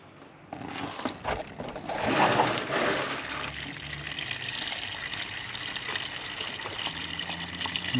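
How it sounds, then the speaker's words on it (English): Engine oil pours from the open sump plug hole of a VY SS Commodore, a steady close splashing gush that swells early on and then settles into a continuous even trickle. "And let the oil drain out."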